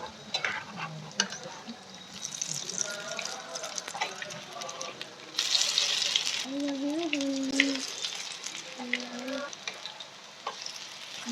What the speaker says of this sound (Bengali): তো এই দেখুন সবকটা আমার উল্টে দেওয়া মচমচে করে আমরা ভাজা করব।